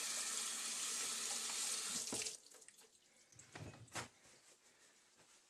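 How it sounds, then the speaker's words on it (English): Hands being washed under a running kitchen sink tap: a steady, close rush of water for about two seconds, then the tap shuts off, leaving light splashes and drips. "Let me wipe off my hands real quick."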